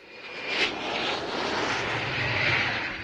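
A Harrier jet aircraft engine roars steadily and loudly at an airshow, a broad whooshing rumble with a thin high whine, sustained throughout without pause.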